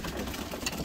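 Pigeons cooing softly inside a loft, with a brief, low, rolling murmur of several birds and a faint background hum.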